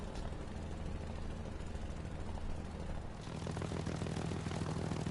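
A War Thunder propeller plane engine drones steadily, dipping briefly before swelling back louder with a firmer low tone for the rest of the stretch, with no talk.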